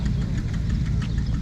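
A little Ferguson TO20 tractor from the 1940s–50s runs at a threshing show, its small engine chugging steadily with a low, slightly knocking idle close by, with no voices over it.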